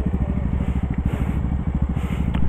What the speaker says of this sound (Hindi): सो अपन रखेंगे बाइक को स्टार्ट